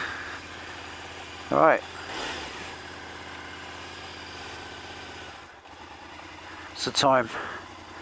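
A motorcycle engine idles steadily at night before a ride home, a low continuous rumble running under two short spoken remarks and a couple of brief louder noises.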